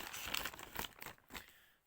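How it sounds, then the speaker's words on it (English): Plastic bag holding 10p coins being cut open with scissors, a short burst of close crinkling and tearing plastic lasting under two seconds, fairly quiet. "Cut open the bag."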